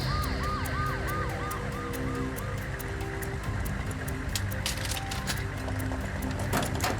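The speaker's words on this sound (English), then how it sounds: "Paramedics race Marna to a nearby military hospital" An ambulance siren wails in repeated rising and falling sweeps through the first half, then fades under steady road and traffic rumble, with clattering knocks toward the end and no speech.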